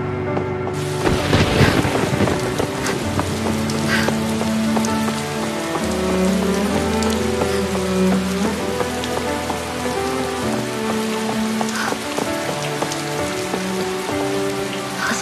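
Steady rain falls and patters on surfaces, a constant hiss under a soft sustained musical score, with no talking.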